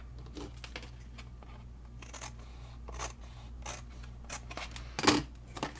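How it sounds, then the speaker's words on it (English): Scissors snip through cardstock or paper for a craft gift box in a run of short, close cuts, with a faint steady hum underneath and one sharper crunch near the end. "So we're going to cut this piece off."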